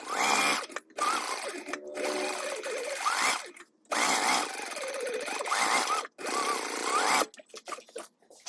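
A sewing machine bastes fabric panels together in several rapid, whirring bursts of stitching, separated by short pauses, close and fairly loud.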